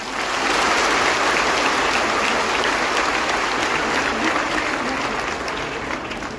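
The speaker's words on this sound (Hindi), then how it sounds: "आप सबके लिए जोरदार ताली होनी चाहिए" An audience at a Samrat Ashoka Jayanti gathering applauding a mother seated among them. The applause is loud, continuous and dense and holds for several seconds before easing slightly at the end.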